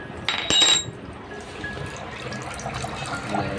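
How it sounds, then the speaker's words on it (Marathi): A brief crack and clink as a fresh coconut is broken open, then a steady stream of coconut water pouring and splashing into a vessel for a few seconds. "आता इथे मम्मी नारळ फोडते खाली काहीतरी घे ना"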